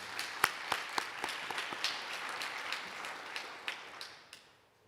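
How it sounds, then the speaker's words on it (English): Applause from a White Coat Ceremony audience for a speaker named Lauren, a scattered round of clapping with distinct sharp individual claps that gradually thins and fades out, moderately distant in a large hall. "How about a round of applause for Lauren?"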